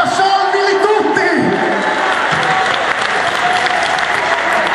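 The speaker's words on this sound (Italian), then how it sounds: "Un applauso al reverendo!" A crowd at a live folk metal concert at the Gods of Folk festival in Casalromano claps and cheers loudly and steadily, with shouts mixed into the dense applause.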